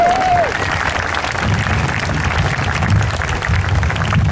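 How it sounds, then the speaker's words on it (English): A graduation ceremony audience in a school hall claps steadily for an honored graduate, a dense, sustained round of applause from many hands, fairly loud and continuous with no break. "Yeah, I'll clap for that."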